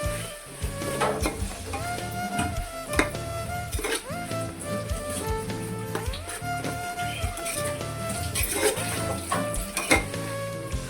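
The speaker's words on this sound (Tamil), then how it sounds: "இப்போ எல்லாம் இது நல்லா வதங்கட்டும்" Onions with mint and coriander leaves sautéing for chicken biryani, a steady sizzle with frequent stirring scrapes and occasional clinks of a spoon against the pot, continuous and close throughout.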